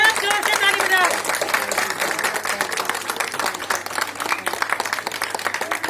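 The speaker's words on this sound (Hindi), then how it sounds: "सब जोर से ताली बजाओ" A crowd claps loudly to welcome corona warriors, brisk sustained clapping with a voice heard over it at the start.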